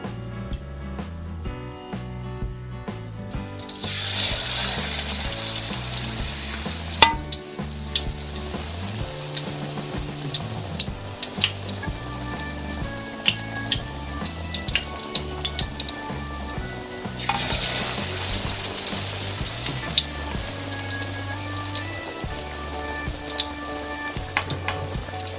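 Bananas being cooked for pinaypay na saging fry in hot oil, producing a steady crackling sizzle close by that swells at moments, with faint clinks of a utensil stirring.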